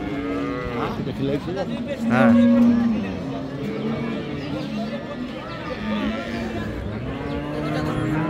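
Friesian dairy cows at Ambari cattle market in Dinajpur low repeatedly, one loud moo standing out near the middle, against steady market babble and people talking nearby.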